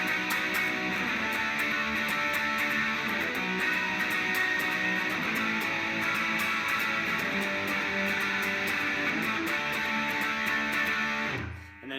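Distorted electric guitar power chords from a song are strummed continuously in a loose, driving punk rhythm, dense and loud, stopping abruptly at the end.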